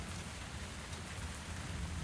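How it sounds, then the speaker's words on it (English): Steady rain falls in a video game tavern setting, a soft continuous hiss of drops on surfaces, faint and even, with no voices over it. "the rain sounds not helping with the whole keep myself awake"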